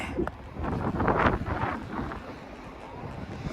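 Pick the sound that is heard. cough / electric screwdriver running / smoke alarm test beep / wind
wind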